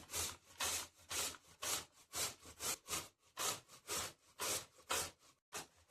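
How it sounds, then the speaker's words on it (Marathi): Bottle gourd grated finely by hand in a home kitchen, a steady run of about a dozen rhythmic rasping strokes, close and fairly quiet, each stroke a short scraping burst with brief pauses between. "आपण याला बारीक किसून घेणार आहे"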